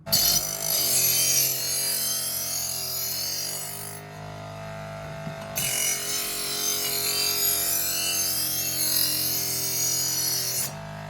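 Continuous harsh grinding of a knife blade in a CHEFKOCH PRO KFC-30 electric sharpener's polishing slot, loud and close, with a short break midway before the grinding resumes.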